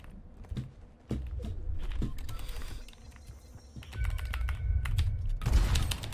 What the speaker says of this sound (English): Oh, now you can really hear the keyboard.